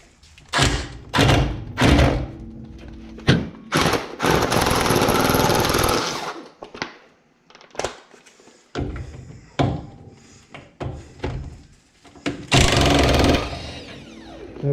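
An impact gun works a nut off a 1966 Galaxie 500 during a drum-to-disc brake conversion. Loud, close bursts of hammering rattle come in repeated short and longer runs, separated by brief pauses.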